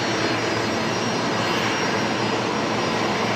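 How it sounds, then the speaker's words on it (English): An Embraer jet arriving at Brisbane Airport at night gives a loud, continuous, broadband engine roar that stays even throughout, with no talk. "Here's the Embraer coming in from Newcastle, Williamtown"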